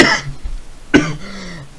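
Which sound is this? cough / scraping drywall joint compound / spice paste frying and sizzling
cough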